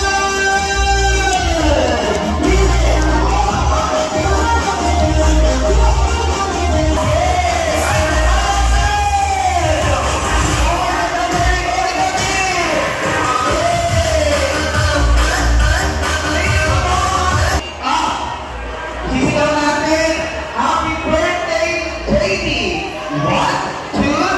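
A crowd at a birthday event cheers, yells and whoops loudly and continuously, with voices shouting over music-like tones and the roar dipping briefly near the end.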